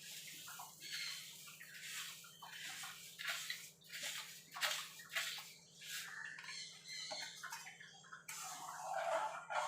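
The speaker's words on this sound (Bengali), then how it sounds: "দেখুন বন্ধুরা, জলটা ফুটে গেছে।" Salted water comes to a boil in a pot for raw mango chutney, with soft, continuous bubbling and gurgling heard faintly and close by, with no talking.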